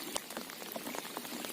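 Rain falling steadily during a river rafting trip on the Dniester in Moldova, a dense patter of drops on surfaces with scattered louder individual hits, close and continuous, with no talking.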